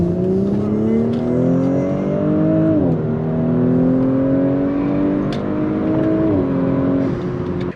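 A 2022 Audi S4 engine accelerating hard, rising in pitch through a gear, dipping at each shift, then climbing again, a loud, sustained engine note heard from inside the car.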